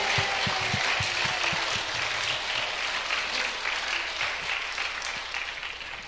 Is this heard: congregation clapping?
yes